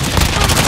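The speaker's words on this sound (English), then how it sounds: "Getting shot at from somewhere." Rapid gunfire in Call of Duty: Warzone 2.0's DMZ mode, a dense continuous burst of shots with low booming thumps filling a short, loud moment.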